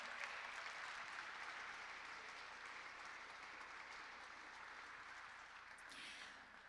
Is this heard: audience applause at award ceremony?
yes